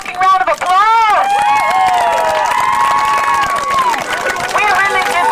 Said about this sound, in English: Give yourself a fucking round of applause.